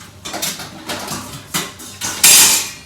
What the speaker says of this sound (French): on prend des poivres en entier et puis on va écraser avec le fond d'un casserole